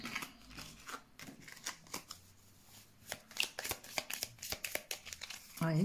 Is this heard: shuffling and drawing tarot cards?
yes